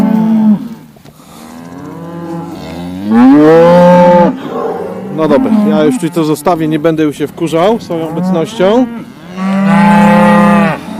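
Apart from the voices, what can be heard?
herd of cattle mooing angrily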